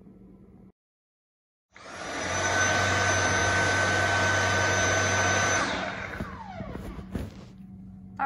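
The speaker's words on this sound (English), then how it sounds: "That was the sound of the vacuum cleaner." A kitchen vacuum cleaner roars loudly and steadily for about four seconds, then winds down with a falling whine and a few clunks, after a short burst of lower machine hum and a gap of silence.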